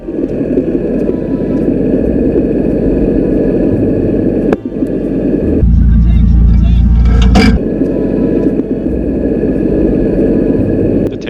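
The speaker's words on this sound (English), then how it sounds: "Our German tank has respawned and come to deal with the Soviets attacking this side of town" A German tank vehicle at a WWII airsoft battle gives off a loud, steady low rumble of engine noise, surging briefly heavier midway through as it moves, with no break in the din.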